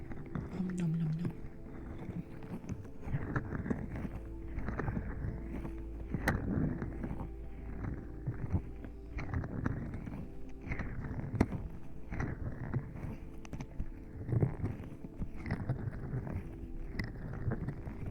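Jelly blocks are chewed close to the mic in an ASMR setting, with repeated soft squishy bites and mouth sounds in a steady rhythm, and a low hum beneath.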